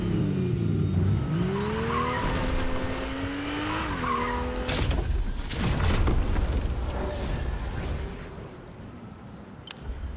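A car with a punctured tyre drives in the video game Fortnite, its engine whining and climbing in pitch, then rough scraping, skidding bursts and thumps follow before the noise thins out near the end, with no talking.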